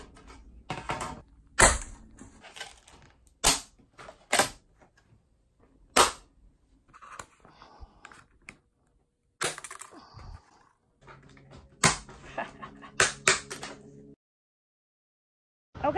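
Scored plastic sheet being cut and snapped apart by hand to build a low-cost enclosure: a series of sharp, loud cracks and snaps come in bursts with quiet gaps between, close to the listener, with no talking.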